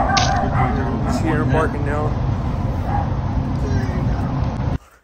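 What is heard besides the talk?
puppy barking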